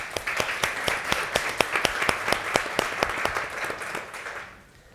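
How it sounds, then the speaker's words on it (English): Applause from a conference audience of delegates at an agro-industry talk on gender inequality, steady dense clapping with sharp individual claps standing out, then fading out near the end. "Give a round of applause, please"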